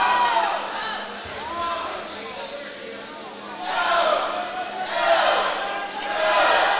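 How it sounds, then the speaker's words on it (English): Teammates at a swimming meet cheer and shout for a swimmer leading the race, rising in loud bursts of crowd chanting that swell and fade over an echoing natatorium din. "You can hear the go, go, go. They're all cheering for him."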